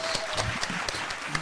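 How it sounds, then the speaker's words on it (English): Studio audience applause and scattered clapping welcoming guest Carolyn into a radio show, a steady dense patter of hands lasting the whole moment with no talk over it. "let's give her a round of applause as she's coming in"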